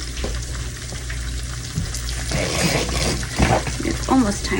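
Food fries in hot oil with a steady crackling sizzle, with a person talking over it nearby.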